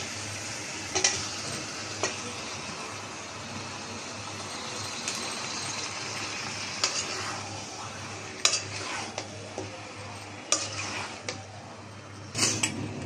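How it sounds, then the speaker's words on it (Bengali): Chicken meat poured into a pot of fried spices, a soft steady sizzle with occasional metallic clinks and scraping stirs against the pot. "মশলাটা কষানো হয়ে গেছে। আমি এখন গোশটা ঢেলে দিব।"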